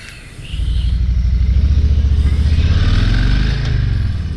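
A 2022 Harley-Davidson Street Bob 114 motorcycle engine rises from idle into a loud, close, pulsing throttle rumble, holding high revs for several seconds before easing slightly.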